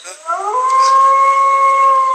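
A single long howl rises quickly, then holds a steady, clear pitch for nearly two seconds, loud and close, with no other sounds around it.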